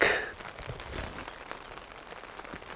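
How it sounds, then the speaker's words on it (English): Light drizzle falling outdoors at an off-grid cabin build site in the woods, a soft continuous patter of drops with faint scattered taps and no speech. "it's just drizzling, not heavy rain."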